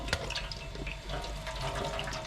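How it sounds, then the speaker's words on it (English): Cold tap water running into a kitchen sink while potatoes are drained, a quiet steady splashing and gurgling stream that continues throughout. "you should probably have a bit of cold water running"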